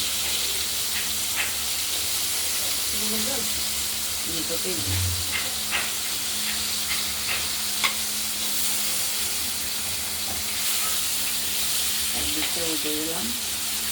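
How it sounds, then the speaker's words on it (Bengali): Pieces of katla fish frying in oil in a kadai, a constant loud close sizzle with faint clinks and brief muffled voices in the background. "মাছগুলো ভাজা হচ্ছে"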